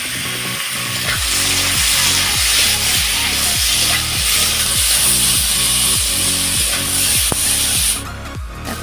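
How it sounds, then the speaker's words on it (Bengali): Chopped onion, capsicum and tomato sautéing in a pan, a loud, close, continuous sizzle with rhythmic scraping strokes from stirring about twice a second. "পেঁয়াজ কুচি দেবো আবার ক্যাপসিকাম টমেটো সব দিয়ে দিচ্ছি এগুলোকে ভালো করে আমি কষিয়ে নেবো"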